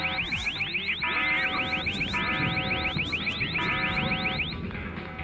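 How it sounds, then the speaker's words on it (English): Electronic security alarm in The Sims 4 whooping in fast rising sweeps, loud and continuous over a busy layer of game background sound. "there went the security alarms"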